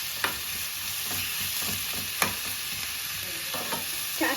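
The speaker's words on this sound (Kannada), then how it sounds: "ಕ್ಯಾಶ್ಯೂಸ್, ಆನಿಯನ್ ಆ್ಯಂಡ್ ಟೊಮೆಟೊ ಎಲ್ಲನೂ ಫ್ರೈ ಮಾಡಬೇಕು." Cashews, onion and tomato sizzle and fry in a pan for a soya chunks dish, a steady soft crackle punctuated by occasional scrapes and clinks of a stirring spoon.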